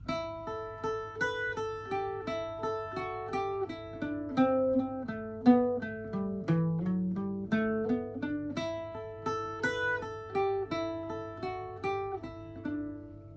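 A bright Irish bouzouki plays a lively, flowing reel melody, Cliffs of Moher, in quick even notes over a steady droning low string, with no talking.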